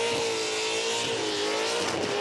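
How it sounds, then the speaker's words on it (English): A burnout car at the Summernats Burnout Masters spins a full 360 donut, its tires squealing in a loud, continuous shriek over a roaring, steadily revving engine. "pull the car through the donut exactly like that"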